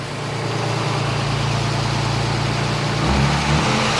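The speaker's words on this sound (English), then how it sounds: "Let me race the engine a little bit." A BMW S52 engine idles steadily, then is revved near the end, the low hum rising briefly in pitch and loudness.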